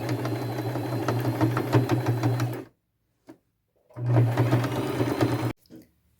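Sewing machine running a wide zigzag stitch in pink thread to attach a crochet piece to a thrifted jacket: two close, rapid, buzzing runs of about two and a half and one and a half seconds, separated by a pause.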